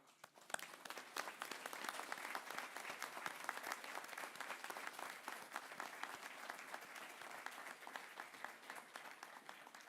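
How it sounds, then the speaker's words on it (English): A gathered audience breaks into sustained applause, many hands clapping in a dense, crackling wash that swells quickly and holds steady for the full stretch at moderate distance. "So big applause to everybody."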